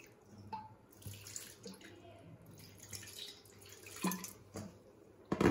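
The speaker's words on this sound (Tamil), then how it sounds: "அந்த மாவு பிணையறக்க தேவையான அளவு தண்ணியை மட்டும் ஊற்றிக்கலாம்" Faint trickle of water being poured into flour for chapathi dough, uneven and soft, with small splashes and a louder clatter near the end.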